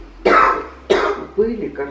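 Three short harsh coughs in quick succession, close and fairly loud, the last one weaker and trailing into throat clearing, with a voice nearby.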